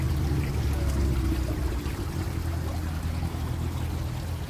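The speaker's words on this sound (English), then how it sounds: "they did it so you could hear the tinkling of the water" Water tinkles and pours steadily down a man-made rock grotto waterfall at the Alfred Caldwell Lily Pool in Chicago, a continuous close splashing rush with a low rumble underneath.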